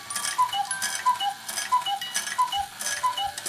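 A Herr musical cuckoo clock with a top-mounted music box that is not working right strikes the half hour. Two-note cuckoo calls repeat at a steady pace over soft ticking and faint background noise.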